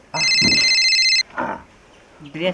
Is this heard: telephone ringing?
yes